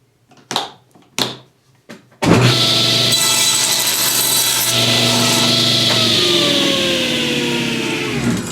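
A saw cuts along the edge of a wooden guitar fretboard held on a tapering jig, starting with a few short separate strokes, then a loud, steady, continuous cut with whining tones, close up.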